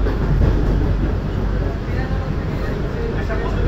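A Bongaon–Sealdah AC local train running toward Sealdah, a dense, steady rumble and rattle from inside the carriage, loud and unbroken throughout.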